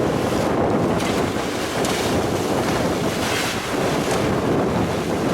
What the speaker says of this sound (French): Allez, je pousse un peu les moteurs ce matin.